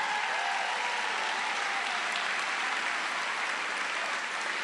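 Large political rally crowd applauding, a dense, steady roar of clapping from many hands that fills the space evenly at a distance without a break.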